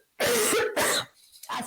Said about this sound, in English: Sorry, I'm going to cough now.